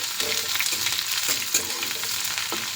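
Curry leaves, grated ginger and green chilies frying in a pan for a dahi vada tempering: a dense, continuous crackle of hot oil with scattered sharp pops and light stirring scrapes, close and fairly loud.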